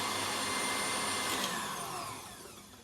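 A stand food mixer whirs steadily at full speed, a dense, close motor drone with a high whine that eases slightly toward the end, no voices over it.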